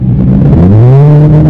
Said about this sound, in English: I do like this little 4-pot engine